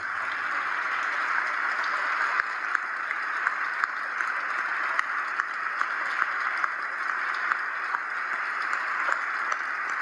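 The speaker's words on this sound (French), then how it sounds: "c'est la moindre des choses que d'applaudir maintenant pour remercier le Seigneur" Applause fills a cathedral in Amos during its 100th-anniversary celebration: a dense, steady wash of many hands clapping, sustained and even for the whole stretch with a few sharper claps standing out.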